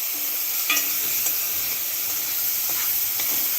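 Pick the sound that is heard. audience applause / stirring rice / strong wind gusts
stirring rice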